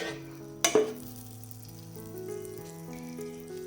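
Butter sizzles softly in a hot pan, a steady low crackle, with a sharp clatter of a utensil early on and a faint tonal hum underneath.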